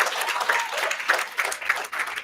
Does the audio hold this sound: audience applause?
yes